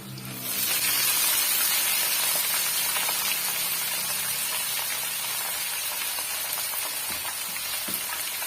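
Chopped pirandai dropped into a pan of hot oil with garlic bursts into a loud, steady hissing sizzle that holds close and strong throughout.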